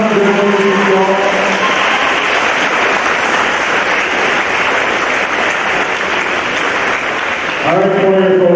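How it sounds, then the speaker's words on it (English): Sustained applause from an audience at a high school senior celebration, dense and loud throughout, with voices and a little speech showing at the start and again near the end. "Let's give them one more round of applause."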